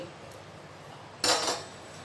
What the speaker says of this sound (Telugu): అంతా ఒకసారి మిక్స్ చేసేసుకుందామండి.